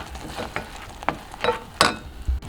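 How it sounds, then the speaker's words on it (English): Cream sauce with grated parmesan and black pepper being stirred in a pan, soft scraping strokes and occasional clinks of the utensil over a faint sizzle, close and quiet. "I'm going to stir everything up now"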